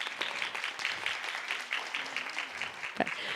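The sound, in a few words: audience applause at an education forum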